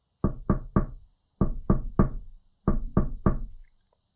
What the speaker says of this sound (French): personne n'entendit Clos frapper à la porte